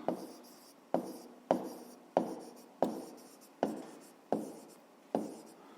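A pen writes by hand on paper for a school maths exercise, giving eight evenly spaced scratchy strokes, each with a sharp onset and a quick fade, close and clear with no voices.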